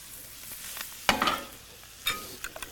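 Eggs and butter frying in a pan with a soft sizzle, broken by scraping stirs of a utensil against the pan, close and fairly quiet.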